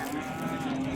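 A cow moos at the Shahrixon livestock market in Andijon, one sustained low call heard up close.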